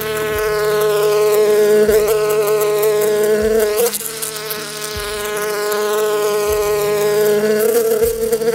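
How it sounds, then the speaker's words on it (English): A bumblebee buzzes continuously around a porch during deck construction, a loud, close, steady drone whose pitch rises and falls as it swoops past, with a few faint low thumps underneath. "this bumblebee. I don't know if y'all can see him. He's got to swoop me every time."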